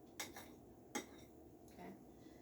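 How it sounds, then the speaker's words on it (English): A fork works through banana muffin batter in a bowl, giving a few faint, scattered clinks and taps against the dish, with quiet gaps between strokes. "So I'm going to go ahead and use my fork"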